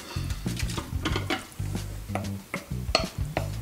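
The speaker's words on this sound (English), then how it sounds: "Okay, we'll drop in our beef." Beef drops into a hot Instant Pot on the sauté setting and starts to sizzle. Close, irregular clanks and stirring scrapes from the pot come through clearly, with no one speaking.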